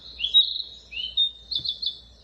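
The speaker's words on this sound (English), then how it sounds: "We get some actual birds going on there." Birdsong played from a sound machine: a string of bright, high chirps and trills in short bursts, clear and close against a quiet background.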